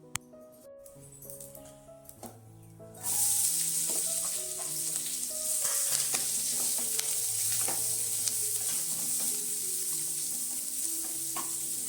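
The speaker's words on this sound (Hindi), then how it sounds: "अब जो है इस टाइम पे मेरी बन रही है थोड़ा सा चिली।" Chili being stir-fried in a pan: after a few soft clinks, a loud steady sizzle rises and continues, with stirring scrapes and clinks over quiet background music.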